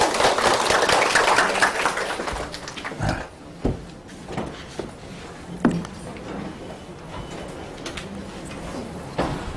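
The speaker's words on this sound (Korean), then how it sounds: "교수님 큰 박수로 맞이해 주시기 바랍니다." Lecture hall audience clapping to welcome a lecturer on Buddhism, a dense burst of applause at the start that thins into scattered claps and murmurs, with a few sharp knocks.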